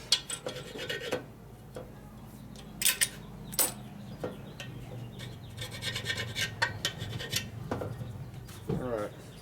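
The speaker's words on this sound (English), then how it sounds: "You can hear the roughness as I'm doing this with a scraper." A scraper rasps across the rough, scratched surface of a 2020 M8 engine case in short irregular strokes, with scattered metallic clicks and taps between them.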